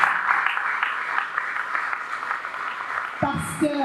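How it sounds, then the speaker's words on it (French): Applause from the audience at a ministry school graduation ceremony in Haiti, a steady broad wash of clapping that carries on throughout, with a voice cutting in briefly near the end. "Veuillez l'applaudir, s'il vous plaît."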